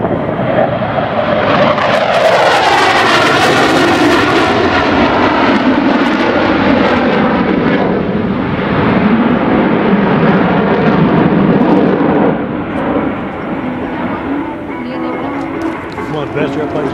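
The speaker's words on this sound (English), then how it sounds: "Here comes the Phantom's high-speed pass." An F-4 Phantom jet makes a high-speed pass at an airshow, a loud, sustained roar that swells and holds for many seconds before easing slightly, filling the whole clip.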